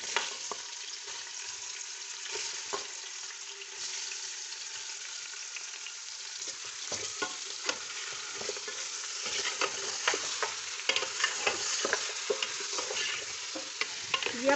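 Meat fries in hot oil for Bombay biryani while being stirred, a steady sizzle with scraping and clinking of the spoon against the pot, close and continuous, with no one talking.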